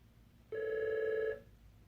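A phone rings once indoors, a single clear electronic tone lasting under a second against a quiet room, with no talking over it.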